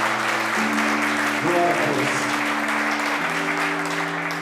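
Church congregation applauding steadily and loudly in a worship service, with a sustained organ or keyboard chord underneath and a brief voice calling out over the clapping.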